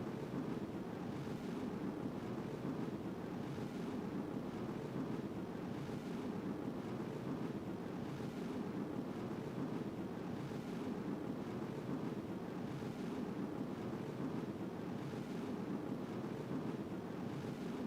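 Rocket engines roar in the spacecraft game Juno: New Origins: a steady, dense broadband rumble that holds at an even level throughout, with no voices over it.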